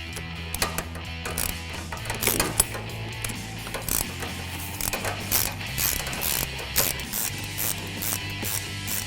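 A ratchet on the 2015-2023 Mustang GT shifter bucket backing out the bottom screws, repeated quick clicking bursts up close over a steady background hum.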